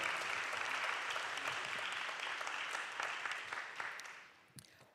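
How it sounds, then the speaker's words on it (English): Audience applause at a candidate forum for 3rd District candidates, a steady dense clapping that holds for about four seconds, then thins and fades out near the end. "Let's give both candidates for the 3rd District a round of applause."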